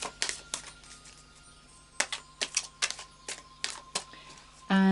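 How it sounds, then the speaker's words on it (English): An Animal Spirit Oracle card deck is shuffled by hand, giving a series of sharp, crisp riffling snaps in irregular bursts, close and fairly clear, with no talk. "I'll just do a final shuffle now of the Animal Spirit Oracle deck."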